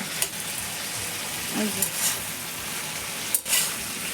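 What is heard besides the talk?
frying and stirring mixed vegetables with onion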